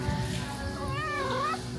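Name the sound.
cat meowing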